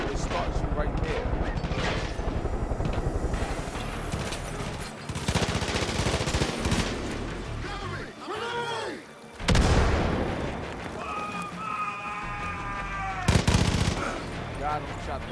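Gunfire in the video game Far Cry 5, dense bursts and single shots crackling over a busy battle mix for most of the stretch, with a brief lull and a few louder reports near the end.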